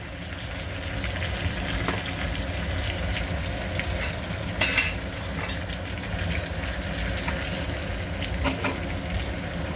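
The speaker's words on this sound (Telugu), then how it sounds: "జీలకర్ర వేగుతున్నప్పుడు అందులోనే కరివేపాకు అండి, అందులోనే ఒక 2 ఎండుమిర్చి అండి, అందులో కొంచెం ఇంగువ వేస్తున్నానండి" Cumin seeds, curry leaves, two dried red chillies and a pinch of asafoetida crackle in hot oil, a steady close sizzle with small pops throughout and no talking, in the tempering for a little millet dal khichdi.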